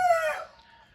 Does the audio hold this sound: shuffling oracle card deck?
no